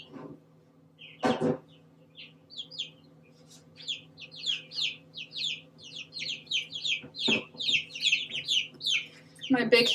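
A young rooster in a backyard flock gives a run of rapid, clucking calls, close and moderately loud, with a few bursts of nearby handling or bumping noise and no talking.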